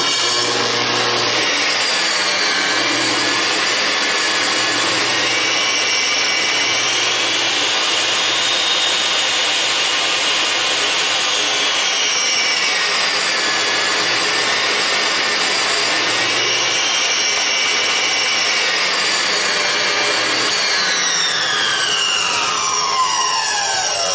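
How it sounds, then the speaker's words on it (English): A Rikon 11-600S table saw's variable-speed motor runs steadily and loudly for the whole stretch, with a high whine whose pitch drifts up and down and then climbs again near the end, with no talk over it. "you can hear that variable speed motor"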